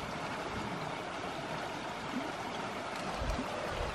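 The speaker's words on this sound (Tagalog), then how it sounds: "Nagatagas yung tubig." Water seeps out of a mountainside beside a river and makes a steady, close, broadband rush. The flow is unbroken and even, with a few low bumps near the end, and no one speaks.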